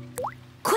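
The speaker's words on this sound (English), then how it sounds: "using a bucket to catch the drips" A single water drip lands in a bucket with a rising, liquid plop, followed by a brighter splashing drop a moment later, close and clear.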